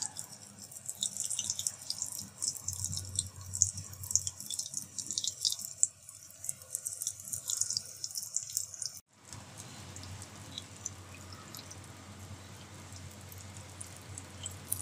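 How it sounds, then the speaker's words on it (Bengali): Flour and potato snacks coated in gram-flour paste frying in a pan give off a steady, close crackling sizzle. It breaks off sharply about nine seconds in, then resumes. "তো আমি অল্প অল্প করে ভেজে নিচ্ছি।"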